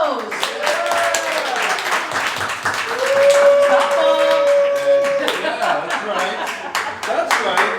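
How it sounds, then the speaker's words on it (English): Applause and clapping from a comedy audience at Mooya Burger in Boston greeting comedian Jim Bowes, a steady stream of claps and some chuckles under a loud sustained voice talking over the crowd. "you have to give him a round of applause to get him up here"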